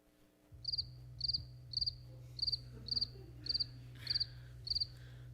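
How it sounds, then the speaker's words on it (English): Recorded cricket chirps play inside a quiet hall during a funeral service: eight evenly spaced, shrill triple-pulse trills ring out clearly over a low steady hum. "We have been dying to play crickets in here for so long"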